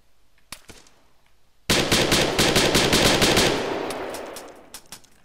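Machine gun fire in the military shooter Arma 3: a single short shot, then after a pause a loud, sustained burst of rapid rounds that trails off into scattered echoing reports.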